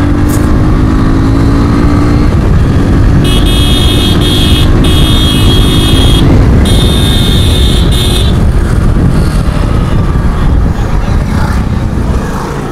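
A motorcycle with newly replaced clutch plates is ridden fast along a road, its engine droning loudly and continuously close by, with wind noise and passing traffic mixed in.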